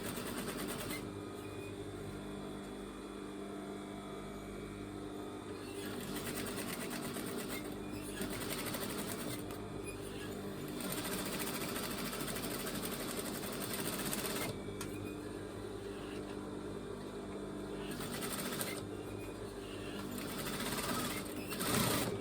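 Sewing machine back tacking and stitching along a fabric edge while a cushion cover is made from clothing, quick rhythmic stitching in several runs with brief pauses, fairly quiet and close.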